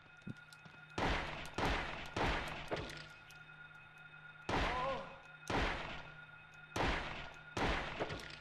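Gunfire in the 1999 video game Silent Hill, rendered as loud repeated thumping shots in bursts of three or four with short pauses between volleys, heard at close range.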